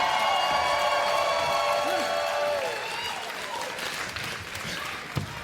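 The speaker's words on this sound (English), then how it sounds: "the crowd now chants MLP again" A live AEW wrestling crowd chants during a Takeshita versus Alexander bout, a loud, steady arena roar that fills the whole clip beneath a commentator's voice.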